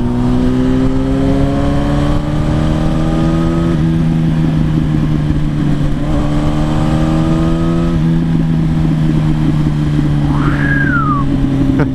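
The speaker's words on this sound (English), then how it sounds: "So this one's got a Tomagoni exhaust on it as well," A Yamaha motorcycle fitted with a loud Termignoni exhaust rides past the microphone, its engine holding a strong steady drone and climbing through the revs in two long pulls, loud and close.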